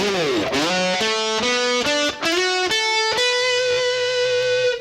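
Electric guitar plays the first measure of the solo with a slide, gliding notes sliding up into sustained singing tones, overdriven and close, with no talking.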